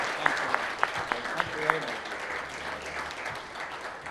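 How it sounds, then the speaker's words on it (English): Audience applause at the close of a Business Today Mindrush business talk session with N.R. Narayana Murthy, a few sharp claps standing out over a broad wash of clapping and murmured voices that fades toward the end. "Big round of applause"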